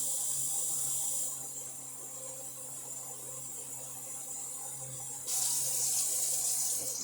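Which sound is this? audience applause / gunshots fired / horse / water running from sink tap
water running from sink tap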